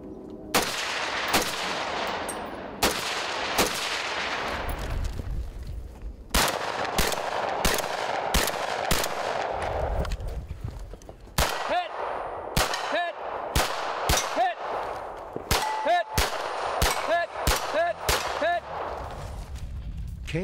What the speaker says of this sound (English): Lena Michalek will shoot next